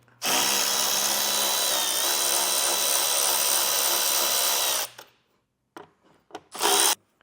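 A power drill with a T40 Torx bit removes bolts on a 2022 Jeep Grand Cherokee, whirring loudly and steadily for about five seconds, then stopping, followed by a few short bursts.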